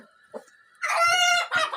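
Brahma chickens at a poultry farm in Ullapara, Sirajganj, Bangladesh: a couple of short clucks followed by a loud, close rooster crow with a strained, harmonic-rich call, ending in another brief squawk.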